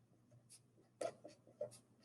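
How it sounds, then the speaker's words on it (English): Pen strokes on paper while writing a label along a mind map branch, a few quiet, brief scratchy marks spaced irregularly, close and faint with no talking. "I'm going to write on the branch motives"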